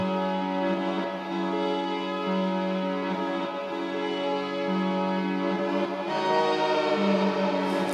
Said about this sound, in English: When you play that through a reverb pedal, delay pedal, some distortion, you get this wonderful sound